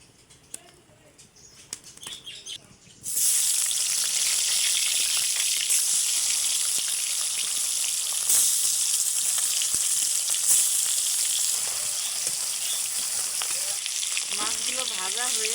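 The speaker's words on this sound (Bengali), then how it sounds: "এই কড়াইতেই তেল দিয়ে মাছগুলো ভেজে নিব।" Rohu fish slides into hot oil in a wok after a quiet start with faint clatter, and a loud, dense sizzle erupts at once and holds steady with scattered pops and spatters.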